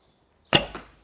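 A single sharp twang and whoosh of a 420-grain arrow loosed from an Alibow Rattle Snake takedown bow, with a brief second thump just after, close and alone.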